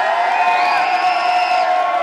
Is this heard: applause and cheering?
yes